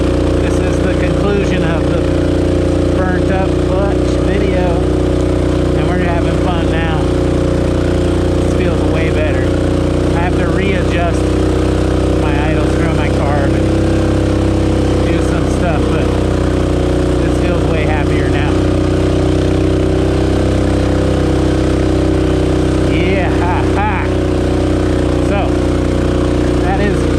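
A Rokon motorbike with a burnt-up clutch crawls up a slope, its engine droning in a steady, loud, low hum throughout while someone talks over it.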